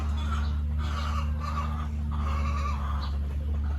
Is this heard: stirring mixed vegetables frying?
no